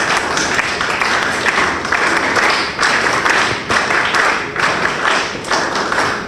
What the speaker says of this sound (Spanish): para ellos quisiera pedirle fuertes palmas a apristas